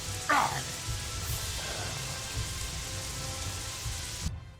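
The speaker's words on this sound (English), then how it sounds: "I'm gonna sleep until this rain stops" Steady rain in the video game Gothic 3, a constant soft hiss with one brief sharper splash near the start, then an abrupt cut to silence at the end.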